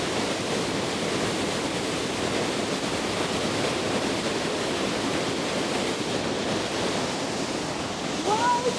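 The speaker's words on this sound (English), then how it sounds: "You guys, we're behind the waterfall. That's Niagara Falls." Niagara Falls roars from behind the falling water, a dense, loud, unbroken rumble filling the whole span with no pauses.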